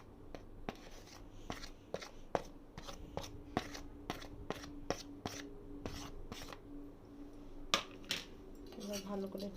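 Rice for basanti pulao being mixed by hand with salt, garam masala, dried chilli powder and turmeric, giving soft rubbing and scraping with regular light clinks against a metal bowl, close and quiet, with no talk.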